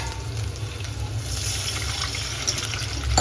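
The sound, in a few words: water being poured for dhokla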